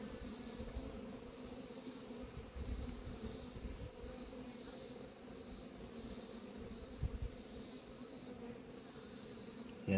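Bees robbing a hive give a faint, steady buzzing drone with a soft hiss above it, continuous and fairly distant with no voices.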